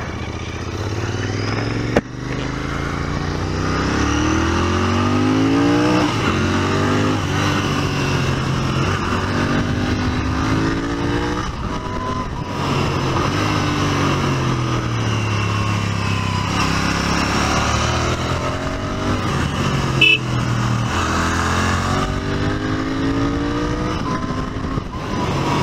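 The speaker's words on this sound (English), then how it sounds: "Love this parallel twin sound, man." A Royal Enfield Interceptor or Continental GT 650 parallel twin engine revving on the road, loud and throaty, rising and falling through gear changes for a sustained stretch with steady wind and road noise.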